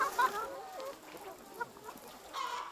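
Chickens pecking at fruit in a garden plot, giving soft scattered clucks and calls close by at low volume, with no talk.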